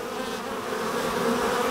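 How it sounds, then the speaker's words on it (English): Smoked honey bee colony hums in a steady low drone, a faint, even buzz of many bees inside an open hive, continuous and unbroken, with no speech. "the bees start making a little bit more of a hum"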